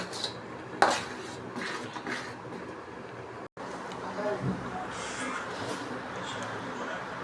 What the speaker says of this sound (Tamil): கொஞ்சம் கொஞ்சமாக ஆயிலை சேர்த்து கொண்டு மிக்ஸ் பண்ணி கொண்டு இருக்கிறோம்.